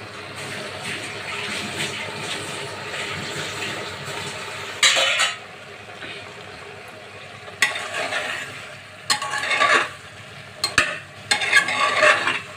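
Grated coconut tipped into a pan of pumpkin curry and stirred, giving soft scraping and clinking of a spoon against the pan in several short bursts over a low, steady cooking hiss.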